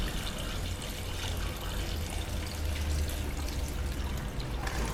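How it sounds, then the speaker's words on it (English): Twelve litres of diesel fuel are poured into a car engine's crankcase, a steady liquid gurgle and splash that runs continuously, close and fairly quiet. "So we've got nothing but 12 litres of diesel here. Pour it in the engine"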